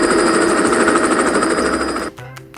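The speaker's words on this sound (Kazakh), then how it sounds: "Тік ұшақ." Helicopter: a loud, fast, pulsing rotor whirr that holds steady for about two seconds, then stops abruptly, leaving a quieter tail.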